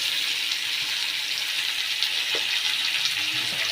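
Chilli mushrooms fry in a pan with a steady, soft, even sizzle and hiss, continuous and unbroken, with no talking over it.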